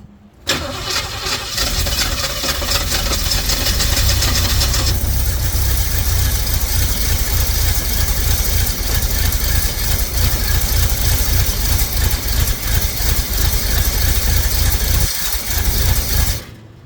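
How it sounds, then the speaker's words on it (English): A Jeep engine fitted with a brand new carburetor fires up and settles into a loud, steady idle with a rough mechanical rumble, running close by for about fifteen seconds before cutting off at the end. "Give that idle give it a little love. It's brand new carburetor"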